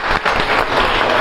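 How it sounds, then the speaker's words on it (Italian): An audience claps loudly and steadily at the inauguration of a school's digital fabrication lab, a dense, sustained round of applause close by. "facciamo un grandissimo applauso."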